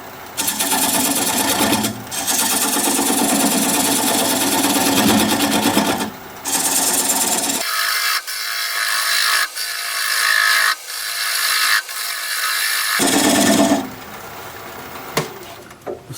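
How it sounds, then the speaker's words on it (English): Bowl gouge working a spinning cherry bowl on a wood lathe at about 550 rpm, cutting away the tenon: a steady, loud scraping hiss broken by short pauses, with a stretch of thinner, brighter cutting in the middle. "Gonna grab a 3/8 inch bowl gouge and commence removing that tenon."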